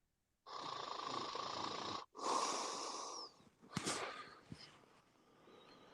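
A person snores in two long, rasping breaths, close and fairly loud, then trails off into snorts and softer wheezy breathing.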